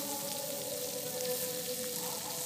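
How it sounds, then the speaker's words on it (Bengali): Chopped onion, green chili and tomato fry in hot oil for a cabbage curry, making a soft, steady sizzle close by over a low hum. "তারপরে কাঁচা লঙ্কা কুচি, টমেটো কুচি সমস্ত কিছু দিয়ে সুন্দর করে ফ্রাই করব"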